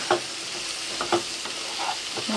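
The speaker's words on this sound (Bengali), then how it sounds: "পটল ভাজা আর আলু ভাজা ছিল একটু, আর একটু ভেজে নিলাম" Pointed gourd and potato frying in a pan give a steady close sizzle, punctuated by a few quick scraping stirs of a spatula.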